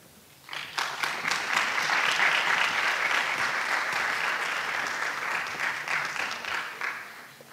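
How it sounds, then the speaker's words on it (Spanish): An audience at a student kinesiology congress in Magallanes breaks into sustained applause to welcome a speaker, rising quickly after a quiet start, holding steady and dense, then thinning slightly toward the end. "Lo recibimos con un fuerte aplauso"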